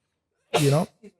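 A single close, loud sneeze bursts out, followed by a short faint vocal sound.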